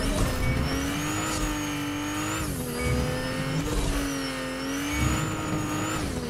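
A car in Fortnite Chapter 4 Season 2 revs and drifts around a race track, its engine droning steadily with rising and falling pitch as it accelerates and slides, loud and close throughout.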